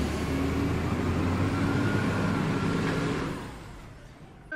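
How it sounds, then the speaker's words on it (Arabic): A bus drives past with a loud, broad engine rumble that holds steady and then fades, ending with a brief knock. "حافلة."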